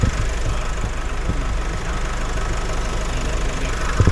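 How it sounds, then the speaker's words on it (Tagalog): Motorcycle engines idle in a steady, loud, rough rumble with a knocking texture, close by and continuous throughout, with no talk over them. "papatayin na po natin yung mga makina"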